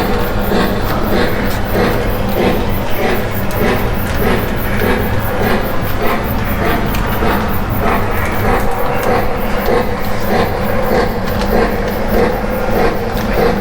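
A Lionel model train clatters steadily along its track, a continuous rhythmic rattle with motor hum, close and fairly loud, without any talking.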